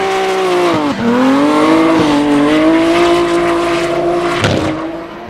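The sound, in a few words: drift cars, Nissan 180SX and S14, battling at Hampton Downs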